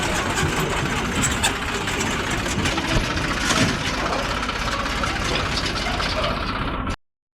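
A mini tractor's small engine idles steadily with a low, rumbling chug and a rattly mechanical buzz, close by, then cuts off abruptly near the end.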